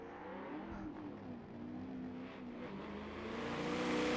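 Roaring engine of a 1000+ horsepower rear-wheel-drive race car in Forza Motorsport 7 on the Dubai circuit, a loud sustained rev that builds and swells toward the end, with no talk.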